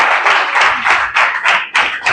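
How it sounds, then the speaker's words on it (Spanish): Audience applause for an interviewee at an event honouring a preceptor, steady mixed claps and taps running throughout at close range with no talk over them. "Un aplauso para Raúl por el tiempo que nos ha dado."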